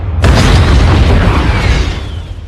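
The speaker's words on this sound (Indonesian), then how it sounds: "lalu meledakkan ranjaunya tepat di bebenguk si Yuli hingga membuatnya tewas" Film explosion of a mine detonated against a bulletproof door, a sudden very loud boom that bursts in after a short lead-in and rolls on into a long rumbling decay.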